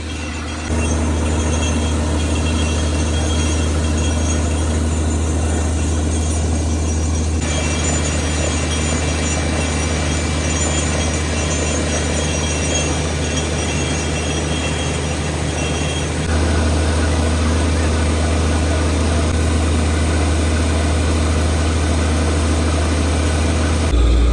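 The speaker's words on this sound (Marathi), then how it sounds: "बोरच्या मशीनजवळ तर आवाज पण येतोय खूप मशीनचा" A borewell drilling machine runs loud and steady on farmland near Nashik, its heavy engine drone continuous for the whole stretch, with a slight shift in tone partway through and no voices.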